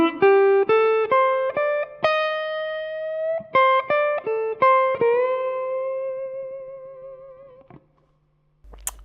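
A slow blues guitar lick in C on minor pentatonic notes: a string of clean, sustained picked notes with a bend up to the root, ringing clearly and alone before fading out.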